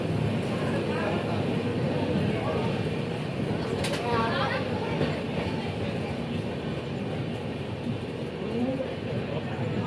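Kandari Express standing at a station platform, a constant rumble of idling train and platform bustle with voices and announcements layered over it throughout.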